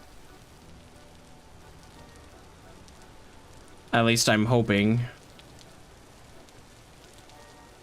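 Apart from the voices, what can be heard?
rain falling in a video game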